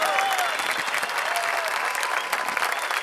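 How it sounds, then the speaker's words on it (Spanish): A theater audience at a live show bursts into loud, sustained applause, a thick unbroken wash of many clapping hands with a few faint voices and whoops mixed in, filling the whole moment. "Fuerte el aplauso."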